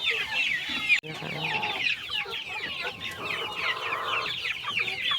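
Several chickens cluck and chatter close by in a steady, busy stream, with a brief sharp knock near the start and no clear talking.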